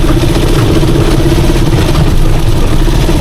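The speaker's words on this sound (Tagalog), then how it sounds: "hindi maingay yung ating makina matining pa rin kahit uminit yung langis" A Rusi Chariot 175 motor trike engine idles smoothly and continuously at close range, warmed up, a constant low hum with no revving or breaks.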